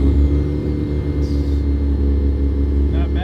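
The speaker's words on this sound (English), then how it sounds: "So this is the third time of starting this car." A Mazda RX-7 FC that sat for 15 years running after being started: a loud, close engine idles roughly with a deep rumbling drone and steady harmonic tones, and brief higher noises join near the end.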